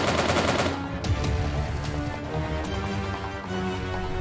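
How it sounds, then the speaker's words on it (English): Rapid gunfire from the video game Soviet Soldier crackles in fast repeated bursts, loud and close at first, then continuing as steady rattling shots throughout. "Am I getting shot from somewhere else?"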